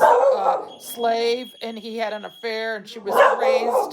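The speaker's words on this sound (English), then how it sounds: "that's my dog barking" A pet dog barks and yips in a run of tonal, whining barks between stretches of someone talking, close by in a quiet room.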